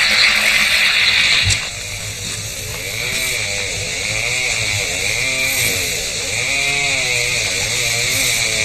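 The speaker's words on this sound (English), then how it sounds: "A chainsaw? Yeah. A chainsaw." A chainsaw runs steadily at close range in a rainforest by a small forest creek, its engine whine rising and falling as it revs, with a louder burst near the start.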